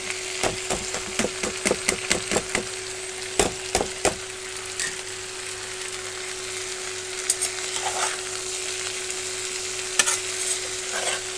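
Leafy greens (saag) frying in a pan with onion, a steady sizzle broken by a burst of sharp, rapid spatula scrapes and knocks at the start, then softer sizzling with occasional taps, close by.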